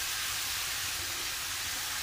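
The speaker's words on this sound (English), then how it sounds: "You hear how the sizzle kind of got really low?" Beef cooking in a pan gives off a steady, hissing sizzle, a broad even wash of frying noise that stays at a constant moderate level with no talking.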